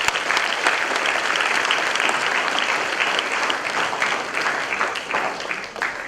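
Applause for the L'Oreal team at a students' induction program creativity workshop: a dense, steady burst of clapping from a large audience, loud and continuous for about six seconds with no talk over it.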